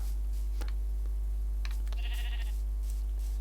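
Sheep in a Minecraft sheep farm pen bleat in a few short video-game calls over a steady low hum, with faint clicks scattered between them and no speech.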